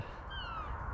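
Seagulls give a few faint, drawn-out cries outdoors, distant over a steady background hum.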